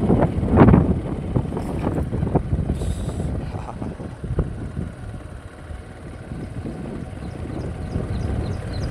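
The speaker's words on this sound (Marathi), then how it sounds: "थंडगार वारा सुटलेला आहे चांगला." Cool wind blowing across a sugarcane farm field about a kilometre from a village while the crop is being irrigated, a steady broadband rush with low rumbling gusts, loud and continuous with no talk.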